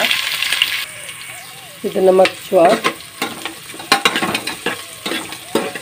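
Chopped onions hit hot oil and are stirred in a pan, a brief hiss followed by scraping and clattering spoon strokes, close, with someone speaking over parts of it.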